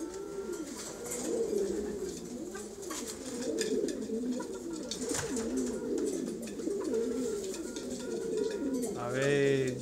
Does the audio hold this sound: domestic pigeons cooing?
yes